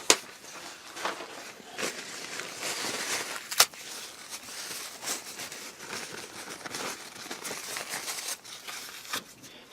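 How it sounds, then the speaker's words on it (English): Blue kitchen roll paper towel handled at a scale-modelling bench, giving soft crinkling and rustling throughout with a few sharper crackles, close and fairly quiet, with no talk. "I'm going to get some blue kitchen roll type thing."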